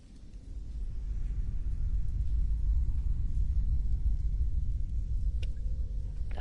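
Low, continuous thunder rumbles through a scene in the Mass Effect video game, a deep, steady roll filling the whole stretch with no talking.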